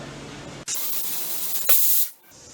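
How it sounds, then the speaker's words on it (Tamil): A pressure cooker cooking tamarind pongal lets out a loud, continuous hissing whistle of steam, cutting off briefly and surging again before fading to a softer hiss. "3 விசில் வந்துடுச்சு."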